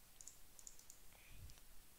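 A few faint, crisp computer mouse clicks while extracting a downloaded Minecraft map file, quiet and close, spaced unevenly over a soft background hiss.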